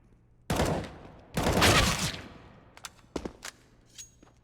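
Rifle gunfire in an esports video game match: two loud, close bursts of rapid shots, then scattered sharp single cracks and a few fainter distant pops as the exchange dies down.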